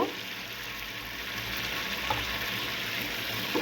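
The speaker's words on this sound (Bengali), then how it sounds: "কিছুক্ষণ মশলাটা কষিয়ে নিয়েছি এ পর্যায়ে আমি টমেটোগুলি দিয়ে দেব" Tomatoes go into hot, frying masala for a small chapila fish curry, producing a steady, close sizzling hiss with a faint stir or two.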